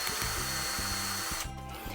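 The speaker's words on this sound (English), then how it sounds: "So I'm going to drill bigger holes for the wall plugs." A power drill with a 6mm bit bores holes for wall plugs while an IKEA EKET floating cabinet is mounted in a bedroom, a steady whine broken by short rhythmic pulses of trigger bursts, heard close and alone.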